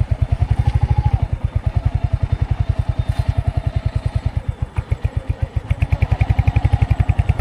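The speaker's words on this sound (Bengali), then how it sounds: "গাইস আমরা এখন বাইক রাইডে বেরিয়েছি" A motorcycle ridden along a forest track near Joypur gives a loud, close, rapid, evenly pulsing engine beat that stays steady throughout.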